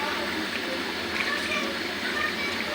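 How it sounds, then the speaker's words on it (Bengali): Chicken kasha curry bubbles and sizzles in a pan as it cooks. The close, continuous wet burbling holds steady throughout the short stretch. "এই যে টকবক টকবক টকবক করে উঠছে এই যে চিকেন কষা"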